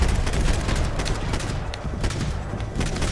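Shotgun fire in Max Payne 3, a rapid string of loud blasts in irregular bursts amid the chaos of a turf-war gunfight, close and continuous with no voices.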